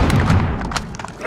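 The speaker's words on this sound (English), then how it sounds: "Grenade out." A grenade explodes in Call of Duty Modern Warfare 2019 multiplayer Domination, giving one loud, close, booming thud that fades over about a second.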